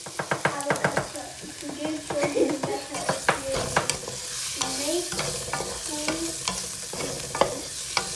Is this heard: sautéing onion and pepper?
yes